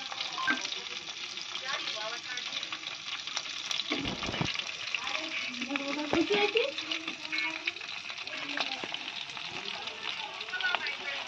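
Chicken pakora fries in hot oil, a steady, close crackling sizzle that runs throughout while a person talks over it.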